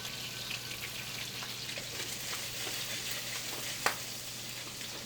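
Garlic and butter fry in a hot pan with a faint, steady, crackling sizzle throughout, broken once by a single soft click near the end.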